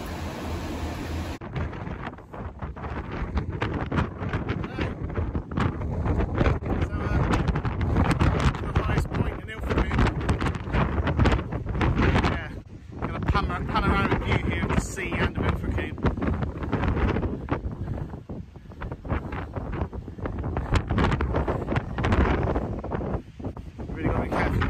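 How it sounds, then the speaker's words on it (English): Heavy rain drums down with gusting wind battering the microphone at a shelter on the North Devon coast, a dense, loud roar that swells and dips throughout. "It was sunny a second ago and now it's absolutely hammering it down."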